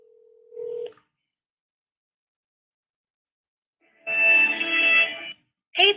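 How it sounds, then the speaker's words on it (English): A call to a company's voicemail line starts with a short steady tone. After a long silence, a telephone ringback tone sounds in a clear burst, and another begins at the end. "I'm gonna call my voicemail for the company."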